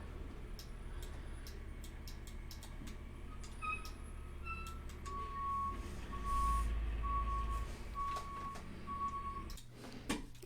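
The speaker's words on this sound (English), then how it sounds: "There was a very large garbage truck outside, so I just paused the recording." A very large garbage truck reverses outside, its beeps repeating at a steady rhythm over a low idling engine rumble, heard at a moderate distance and fairly faint, with a few scattered clicks and no talking.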